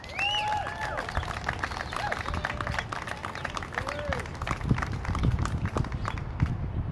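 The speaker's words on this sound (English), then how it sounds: "Can we give another round of applause to Corey?" Steady applause from a crowd fills the space, dense clapping continuing throughout, with a few voices calling out over it.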